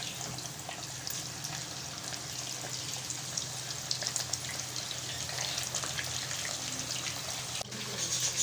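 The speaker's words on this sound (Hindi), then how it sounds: "और बाकी की जो ड्रम स्टिक हैं उनको भी हम फ्राई कर लेंगे इसी तरीके से" Chicken drumsticks fry in hot oil with a steady, dense sizzle and crackle that stays even throughout, with no talking.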